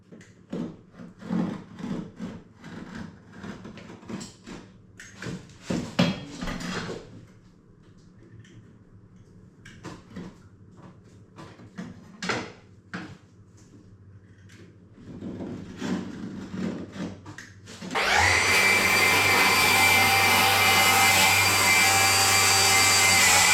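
A new power saw cuts hardwood flooring, spinning up and holding a loud, steady whine near the end after stretches of handling noises, knocks and shuffling.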